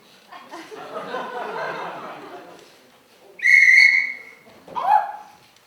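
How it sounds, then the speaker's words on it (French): A person whistles two clear notes, a steady high tone and then a shorter lower one, after a stretch of muffled background talk and chuckling. "Excusez-moi, je peux siffler."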